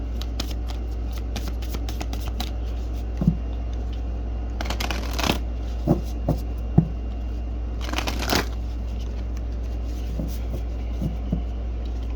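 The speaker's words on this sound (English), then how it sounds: "I'm going to get a Moonology message oracle card." Moonology oracle cards being shuffled by hand, a soft papery riffling with two longer bursts of card noise and scattered light taps over a steady low hum.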